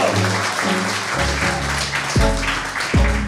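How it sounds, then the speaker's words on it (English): A live audience applauds at a podcast recording at Fujifilm's House of Photography in Covent Garden, London, a dense, steady wash of clapping that runs the whole time with some lower tonal sound underneath. "A round of applause, please, for Andreas"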